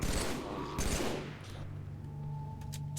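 Assault rifle fire in the Halo video game during a Flood infection battle, a dense rapid burst that is loud up front, then fades into lighter scattered game sounds and a low hum.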